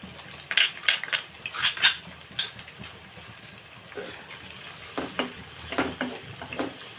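Onions frying in a pan with salt and turmeric, a soft steady sizzle under repeated clinks and scrapes of a spoon stirring against the pan, with no talking.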